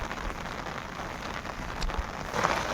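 Rain pours down in a village, a dense and constant patter on surfaces with scattered heavier drops, close and unbroken, with no voices.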